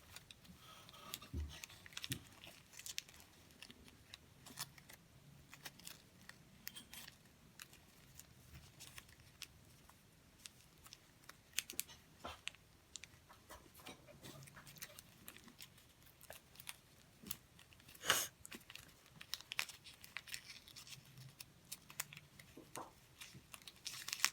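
Paper is folded and creased for an origami spinning top, soft crinkles, taps and sharp creasing snaps scattered irregularly, close and quiet with no talking.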